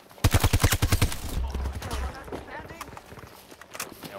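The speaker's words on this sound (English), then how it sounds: "Mortar coming up." Mortar fire in a Battlefield video game: a fast run of about eight loud thumping shots in close succession, followed by rumbling explosions and game noise, with players talking over it.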